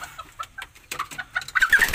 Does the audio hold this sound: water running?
no